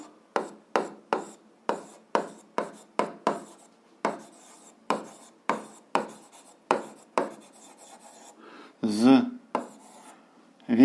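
Chalk or pen strokes write out a math solution in quick, separate scratches with a steady rhythm, close and clear, then a brief burst of rubbing near the end.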